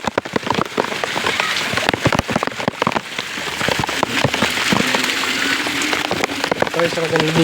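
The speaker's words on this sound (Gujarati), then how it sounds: "જવા વરસાદ ધોધમાં ચાલુ છે." Heavy rain pours down in a dense, continuous roar of drops hammering surfaces, loud and close throughout, with a voice briefly heard near the end.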